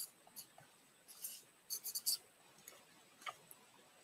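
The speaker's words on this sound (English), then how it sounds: "I'm going to just write these on the big card here." A marker squeaks and scratches across a big card in short separate bursts, faint and close, with a cluster of quick strokes in the middle and quiet gaps between them.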